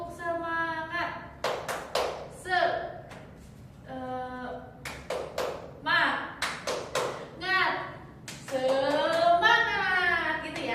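Teacher in a micro-teaching class claps out the rhythmic 'tepuk semangat' pattern, several sharp hand claps in quick clusters mixed in with her own talk in Indonesian.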